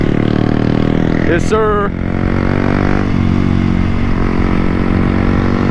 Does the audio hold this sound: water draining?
no